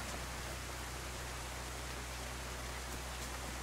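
Steady, even rain hisses in the video game DayZ, a dense unbroken wash of falling drops with no voices over it.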